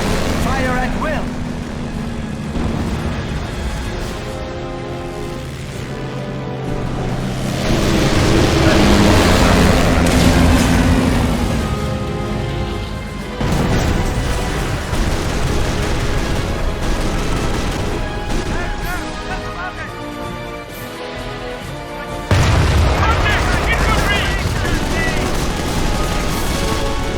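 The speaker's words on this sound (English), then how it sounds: "Anti-aircraft batteries manned. Fill the skies with tracers. Aircraft incoming. Fire at will." Anti-aircraft guns fire at incoming aircraft in the World War II strategy game Company of Heroes, loud continuous bursts of rapid gunfire and booms layered over aircraft engine drone, with battle chatter and music-like tones underneath.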